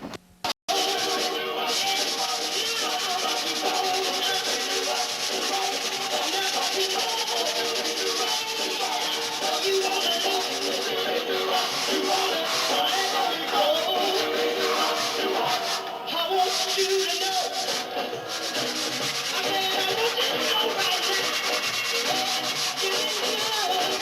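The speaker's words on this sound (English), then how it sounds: "I'm sanding this out with 400," Someone sands a painted model aircraft finish by hand with 400 grit sandpaper, a close, continuous scratchy rubbing that keeps an even back-and-forth rhythm throughout.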